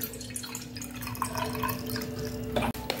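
Ganges water is poured for a Shivaratri puja, with a close, faint trickle and dripping into a vessel over a steady background hum. One sharp clink comes near the end.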